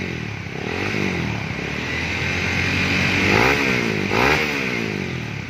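Honda CB150R with a custom, lighter stock-style exhaust, idling with a steady close-up engine rumble and two sharp revs that rise and fall near the middle.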